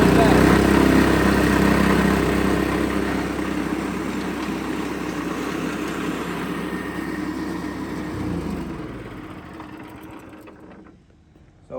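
A lawn aerator's small engine runs with a steady buzzing idle, loud at first, then gradually settling and winding down before cutting out near the end, with someone talking over it.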